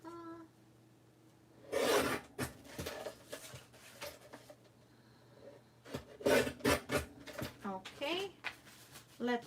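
Paper being trimmed for a handmade card, with scraping, rasping cuts in two close bursts and smaller rustles between them, heard near alongside a background hum.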